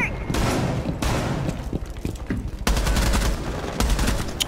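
Bursts of rapid gunfire in Rainbow Six Siege, loud and close, with dense fusillades overlapping for several seconds.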